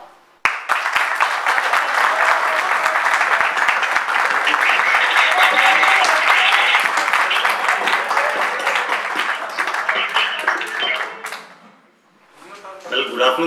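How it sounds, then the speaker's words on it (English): School students applaud a visiting guest speaker, Col. Mangat, in a hall with a long burst of dense, loud clapping that fades into a brief lull before a voice starts speaking. "give a big round of applause to sir"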